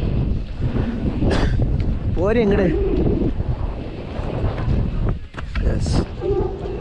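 Strong wind buffets the microphone with a constant low rumble at Ramakkalmedu, a hilltop in Kerala, while people speak briefly over it outdoors.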